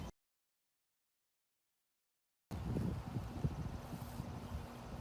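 Steady outdoor wind with the hum of running air conditioners, a dense rushing noise that starts abruptly after a silent gap and continues at a constant level.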